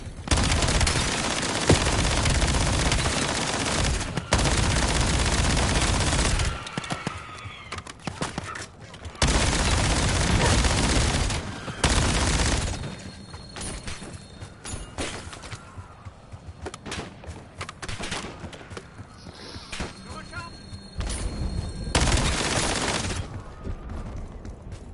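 Rapid bursts of mini turret gunfire in the video game Black Ops 7, loud and dense fusillades broken by short gaps, with occasional booms and a voice speaking faintly in places.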